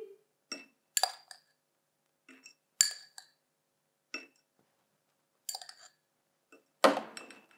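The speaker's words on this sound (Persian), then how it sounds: "مجددا مقداری جوش شیرین به داخل ظرف میریزیم" Baking soda is spooned into a glass container for a vinegar reaction experiment, giving a series of separate, sharp glassy clinks and taps at uneven intervals, close and quiet between hits.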